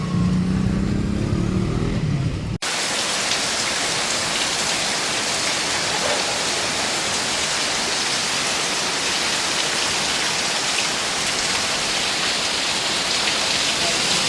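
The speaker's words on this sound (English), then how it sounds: "Wow, it's really raining, man." Heavy rain pours down steadily after a brief muffled moment at the start, a loud, dense, continuous hiss of downpour that fills the whole scene.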